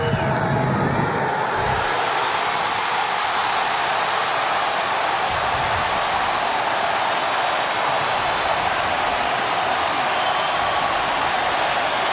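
A Chicago stadium crowd reacts to an overtime field goal attempt against the Bears. After a brief thump, a loud, broad roar swells and holds steady for about ten seconds, like a continuous wash of noise.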